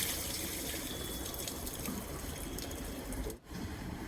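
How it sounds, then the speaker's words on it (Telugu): Water splashes and gushes continuously while being poured to wash out a Sintex plastic water tank, loud and close, with a brief dip near the end. "అప్పుడు నీళ్ళు తీసుకొచ్చి దాని కింద కూడా నీళ్లు పోసి కడిగేస్తున్నా"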